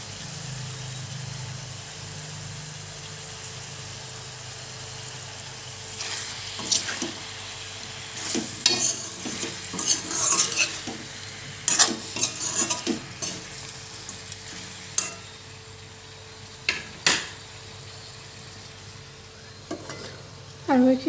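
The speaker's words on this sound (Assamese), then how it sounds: "আৰু এইখিনি অকণমান দেৰি থোৱাৰ পিছত অলপ লৰাই লৈছোঁ।" Local chicken curry being stirred in a pan as it fries, with scraping and clattering spoon strokes over a steady low sizzle, the strokes growing busier and louder partway through and continuing in irregular bursts.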